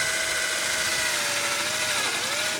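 Power drill boring holes on a sailboat, a loud, close, continuous whine holding a steady pitch that dips briefly near the end.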